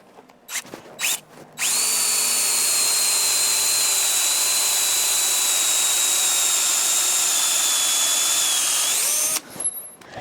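A power drill bores a hole deeper with a loud, steady high whine held for about eight seconds, bracketed by short bumps and clicks before it starts and after it stops.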